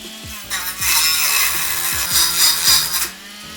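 Dremel SC544 cutting disc grinds into wood, a loud continuous high-pitched whine with rasping, surging bursts as the blade bites and binds, held close and steady for several seconds.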